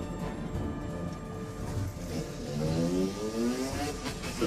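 An unregistered dirt bike engine revs and whines, rising in pitch as it accelerates, fairly close over a steady background rumble.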